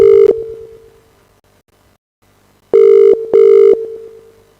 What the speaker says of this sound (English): There's this caller that has been calling.